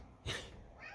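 A pet cat lets out a single short meow, loud and close, then the room falls back to quiet.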